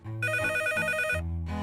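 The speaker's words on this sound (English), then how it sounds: "Telephone rings several times a day." A telephone rings loudly and close, its bright electronic bell tone sounding in a couple of repeated bursts with a short gap between them, alone without voices.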